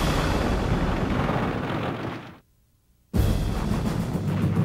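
Dense, continuous rumbling gunfire and blasts from the WWII battle of Iwo Jima fill the scene, loud and chaotic, broken by a sudden second of silence before the barrage resumes.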